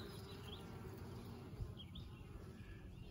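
Honeybees buzz around an open hive at a Graceland beeyard, a dense steady hum with a few bees passing close, faint, with birds chirping lightly in the background.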